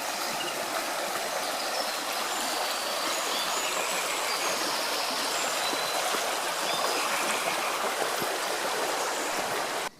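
A rocky creek along the Pyrmont rocky hiking trail rushes and burbles steadily, a dense broadband water noise holding constant loudness throughout with no voices, cutting off abruptly at the very end.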